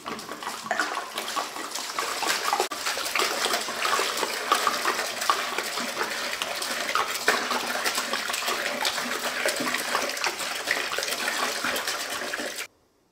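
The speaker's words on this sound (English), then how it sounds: "And next, I will add 5 liters of water, which is equivalent to 5 kilos." About five liters of water pour in a steady, loud gush into a container on a scale, a continuous splashing rush that runs for over twelve seconds before stopping abruptly.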